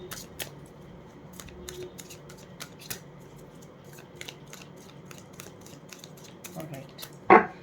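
Tarot cards being shuffled, with a run of quick light riffling clicks and soft shuffles under a low room hum, ending in a sharper brisk riffle near the end.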